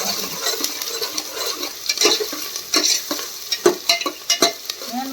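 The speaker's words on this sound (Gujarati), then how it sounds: "હવે જો આપણે તેલ આવી ગયું હોય ડુંગળી નાખી દીધી" Onion frying in hot oil for a pressure-cooker tempered khichdi, a steady crackling sizzle with stirring scrapes and sharp spatter pops that grow louder and denser toward the end, no voices.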